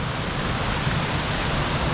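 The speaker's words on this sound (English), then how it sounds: "Waterfall." A double waterfall beside the Waioeka River in New Zealand pours in a steady, dense roar of rushing water, loud and continuous with no breaks.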